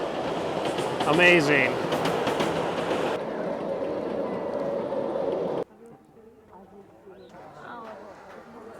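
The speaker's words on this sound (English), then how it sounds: "You come to Japan, you ride the trains." A train rolls along on a ride in Japan, its steady rumble and rattling running throughout beneath close voices. The sound drops noticeably quieter partway through.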